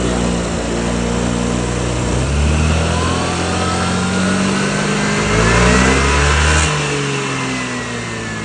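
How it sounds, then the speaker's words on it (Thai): A Yamaha Grand Filano scooter engine with a rev-limit-removing tuning box revs loudly and steadily up close, its pitch rising and falling as the throttle is blipped. "เสียงเปิดรอบ ชัดเจนได้ยินไหมครับ"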